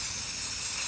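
Spray paint can blasting gold paint onto a custom keyboard case, a steady close hiss lasting about a second.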